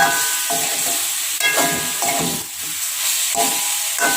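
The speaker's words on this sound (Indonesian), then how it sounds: "Kita aduk seperti ini." Sliced oncom in a coconut milk curry is stirred in a pan, with a wooden-scrape rhythm of strokes about once a second over a steady close sizzle and hiss of frying.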